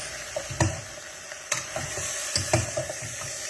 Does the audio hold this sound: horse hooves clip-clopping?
no